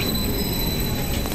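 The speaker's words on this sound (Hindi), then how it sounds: "ये देखिए ट्रेन" A train in Austria heading toward Hallstatt rumbles steadily with continuous rail noise and a faint high squeal, heard from close by without any talking.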